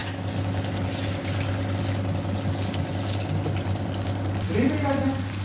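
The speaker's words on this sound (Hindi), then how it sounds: "यहाँ पे ऑयल हमारा गर्म हो चुका है, अब इसमें हम डालेंगे अंडे। बिस्मिल्लाहिर्रहमानिर्रहीम। और इस तरीके से इसमें चमचे चलाते रहेंगे।" Eggs sizzle in hot oil while a spoon stirs them, a steady, close frying hiss with a low hum underneath and a few clinks of the spoon near the end.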